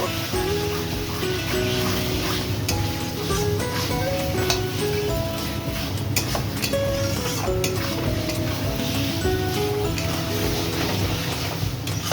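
Spice paste sautéed in oil for a mutton curry sizzles in a steady, loud, dense crackle with scattered light clinks from a utensil, close up with no talk.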